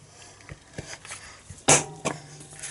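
A corner rounder punches paper with several sharp clicks and snaps, one louder crunching punch near the middle, close up with quiet background.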